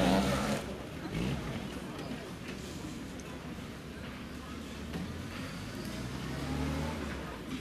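A UAZ military jeep built in 2015 runs its engine at an outdoor vehicle show, giving a rough, loud rumble that rises and falls in revs, with crowd noise around it and no clear speech.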